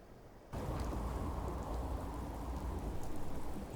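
Steady rain falls in the wasteland of the video game Fallout 4, a dense hissing patter that starts suddenly after a short near-silent gap and continues evenly, with no voices over it.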